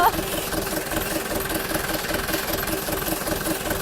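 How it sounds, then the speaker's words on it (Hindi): A tractor engine runs while being driven, a steady low chugging throb that stays even and moderately loud throughout. "आप देखें मैं गाड़ी ट्रैक्टर चला रही हो"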